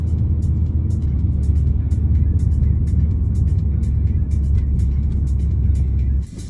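A car drives through downtown Halifax at 5 p.m. rush hour, heading against the outbound flow, its engine rumbling as a steady, close, loud drone with faint passing traffic and small ticks above it until it drops off near the end.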